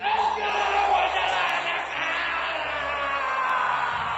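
A crowd shouts and cries out loudly and continuously as demons come out of many people, a dense mass of raised voices without distinct words.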